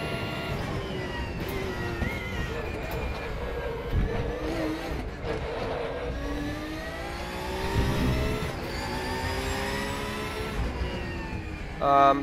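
Porsche 911 GT3 R race car engine roaring steadily down the back straight in the RaceRoom racing game, loud and continuous with shifting revs and gear changes, no talking.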